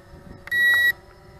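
Bayangtoys X21 brushless RC quadcopter emitting a single steady electronic beep, about half a second long, as it starts its return-home, over the low hum of its motors.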